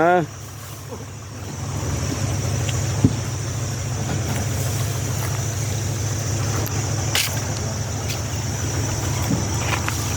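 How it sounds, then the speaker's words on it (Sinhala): A John Deere tractor's engine drones steadily and loudly on a rural track beside a canal and reservoir on the way to Andiyagala reserve, with wind noise over it and faint voices now and then. "මේ ට්‍රැක්ටර් ගිහින් තියනවා නේද?"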